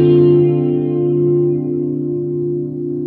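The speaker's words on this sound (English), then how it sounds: "That warbling, it's like the wow and flutter of an old tape echo." An electric guitar chord rings through an Electro Harmonix Grand Canyon analog delay, its sustained tone wavering with slow warbling pitch modulation like tape wow and flutter, loud and alone, gradually decaying over about three seconds.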